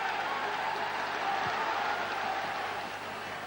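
Large football crowd at Brockville stadium for a 1994 Falkirk v Celtic match, a steady, dense roar of applause and crowd noise filling the ground, continuous and fairly loud with a slight fade at the end.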